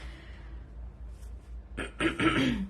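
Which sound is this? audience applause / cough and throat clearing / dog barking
cough and throat clearing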